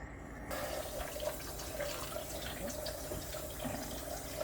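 Water poured in a thin stream over apple pie filling in a dish, a soft steady trickle and splash running on without pause, fairly quiet and close, with no voices.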